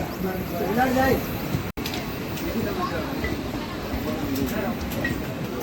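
A Swarnajayanthi superfast train made up entirely of ICF coaches runs along the line, its steady rolling rumble heard close from inside a general coach, with a voice talking over it and a brief dropout partway through.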